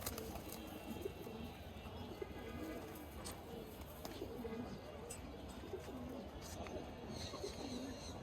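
Pigeons coo softly in a loft, repeated low throaty calls scattered across the scene with light rustling and occasional faint chirps, fairly quiet overall.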